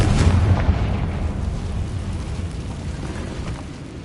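A Confringo spell explosion in Hogwarts Legacy, a loud booming blast with a rumbling low tail that slowly fades over a few seconds.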